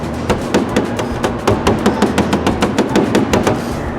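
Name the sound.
body hammer hitting around a car panel dent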